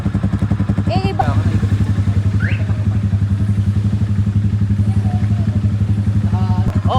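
A learner rides a motorcycle with steady throttle. The engine holds a loud, constant, close-up drone for the whole stretch, and voices come through faintly now and then.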